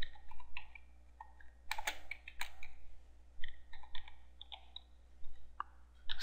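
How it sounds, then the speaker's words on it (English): Typing on a computer keyboard while entering text into a WordPress setup: irregular bursts of light clicking keystrokes with short pauses between them, close and fairly quiet, with no talking. "So you need to type that exact same thing in here."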